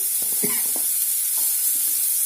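Finely chopped onions going into a little hot oil on a low flame for egg biryani, a soft continuous sizzle with a few clattering stirs and scrapes early on, fairly close.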